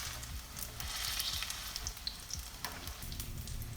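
Pajeon, a Korean pancake, frying in a pan as it is pressed flat, giving a steady close crackling sizzle with small pops and scraping touches throughout.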